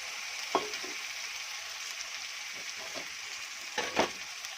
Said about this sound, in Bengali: এবার এর ভিতরে কেটে রাখা টমেটোটা দিয়ে দেব।